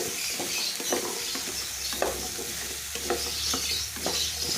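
A utensil scrapes and stirs through thick sauce in a pan, with steady rhythmic strokes over a soft simmering sizzle, close by.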